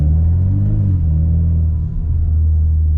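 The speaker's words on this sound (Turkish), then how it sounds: "Araba direkt bağırıyor. Evet, en ufak şeyde kükrüyor." A Ford Mustang's engine rumbles loud and close, a deep throaty growl that briefly rises in pitch before settling back into a heavy idle.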